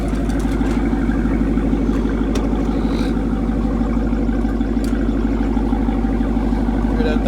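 A car engine idling with a steady low growl close by outdoors on the way to a car wash, continuous and loud throughout with faint sounds of movement on top.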